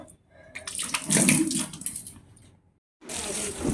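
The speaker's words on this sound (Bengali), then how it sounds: "চালটা ভিজিয়ে নিয়েছি ভালো করে ধোবো ধুয়ে ভিজিয়ে রাখবো একটু" Soaked rice is washed under a running kitchen tap, water splashing and swishing steadily with a brief pause near the end before the flow resumes.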